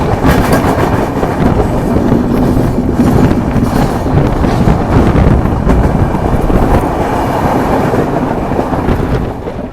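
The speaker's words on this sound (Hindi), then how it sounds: "अपनी महाराष्ट्र संपर्क क्रांति एक्सप्रेस गुजर रही है वैतरणा रिवर के ऊपर से" The Maharashtra Sampark Kranti Express crosses the Vaitarna river bridge, a loud, continuous rumble and rattle of train wheels heard from on board, with heavy wind buffeting the microphone throughout.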